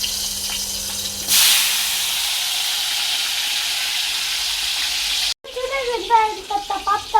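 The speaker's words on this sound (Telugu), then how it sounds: "ఇప్పుడు ఉప్పు చేపలు నూనెలో వేసేసుకుందాం రండి." Salted fish hits hot oil with a sudden loud hiss that settles into a steady, even sizzle, then cuts off and gives way to a short run of choppier crackles.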